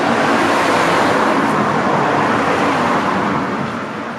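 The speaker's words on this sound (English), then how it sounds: "And although there is traffic, it's not too much." Steady road traffic rumbles past on country lanes during a bicycle ride, a loud continuous roar of passing cars that slowly fades toward the end.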